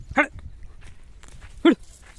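A dog outdoors on a farm gives two sharp, loud barks, one near the start and another about a second and a half later, with quiet ground noise between them.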